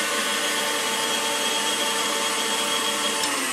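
An electric mixer beats butter into sour cream donut batter with a loud, continuous motor whine that holds steady throughout.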